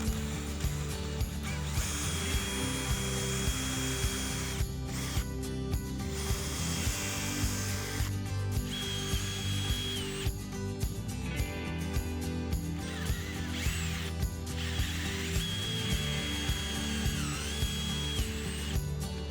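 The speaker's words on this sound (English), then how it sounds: "I'm going to drill the locations that I marked for the holes." A power drill bores bolt holes into a gate post to mount a latch bracket. The motor whirs loudly and close in several separate bursts, some short and some longer, with pauses and clicks between holes and no talking.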